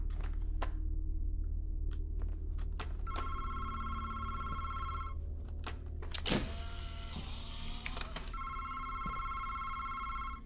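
A telephone rings in the horror game MADiSON, two bursts of bright electronic trilling separated by a pause, over a low steady hum and a few soft clicks and thumps, with no voices.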